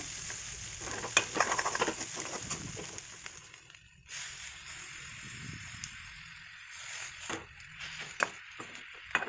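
Drumstick leaves stir-fried with egg in a pan give off a quiet sizzle, with soft scraping stirs and occasional clinks of a spatula, and no talk.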